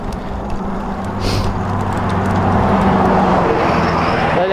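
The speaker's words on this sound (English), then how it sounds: "Let that big truck pass." A big truck passes on the road, a steady heavy engine rumble and tyre roar that swells gradually and stays loud and close throughout, with no talking.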